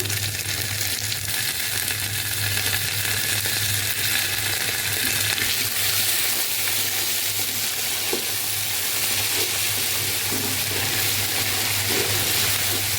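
Pieces of chicken roast frying in a pan with ginger paste and spices make a continuous even sizzle, with a low steady hum underneath and occasional faint clicks of stirring.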